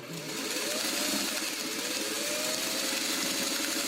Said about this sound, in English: stitch along this block on one side